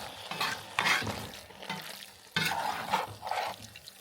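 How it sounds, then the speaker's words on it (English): Mushrooms, onions and carrots in a pot are stirred over very low heat, giving close wet scraping and soft bubbling sizzle in uneven bursts. "we will let this simmer for a few minutes on very low heat."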